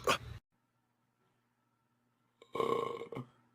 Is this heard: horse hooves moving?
no